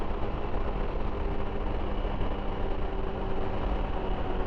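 A Tekken 250 motorcycle engine holds a steady, even drone throughout, loud and close with no break or change in pitch, as on a highway ride.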